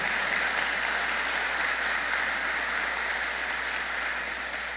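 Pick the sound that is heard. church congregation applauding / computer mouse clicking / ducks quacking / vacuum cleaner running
church congregation applauding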